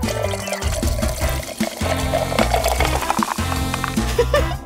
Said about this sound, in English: Now pour in some soda.